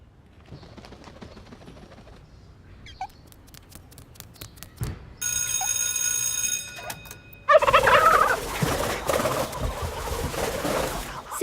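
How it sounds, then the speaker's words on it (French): Turkeys gobbling and clucking in bursts, quiet at first, then a sudden loud, dense flurry of fowl calls that fills the second half, with a tonal electronic stretch in between. "Je rêve ou quoi? Mais c'est des dindes!"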